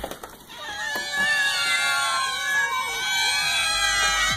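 A stray female cat in heat caterwauls in long, wavering, high-pitched yowls that rise and fall continuously, loud and close, with no talk over it.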